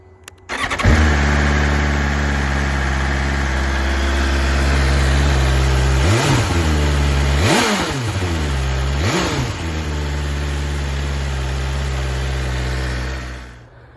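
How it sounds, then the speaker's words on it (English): A BMW M1000XR motorcycle engine starts and idles with a deep rumble, then revs sharply three times before settling back to a steady idle, loud and close. "have a listen to the engine"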